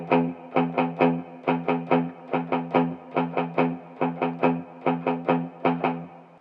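Distorted electric guitar through an effects unit plays a repeating rhythm of an eighth note followed by two sixteenth notes, each beat grouped as a longer stroke then two quick ones, loud and close with no talking.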